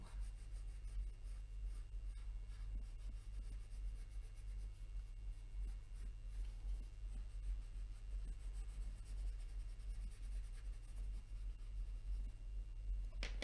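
Shading with a dark 8B graphite pencil on paper: a continuous soft, scratchy rubbing that runs steadily throughout at low level over background hum.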